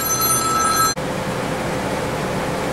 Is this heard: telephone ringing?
yes